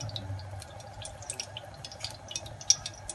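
Cooking oil poured into a pan for chicken jalfrezi, a faint trickle with small scattered drips and splashes, quiet and close.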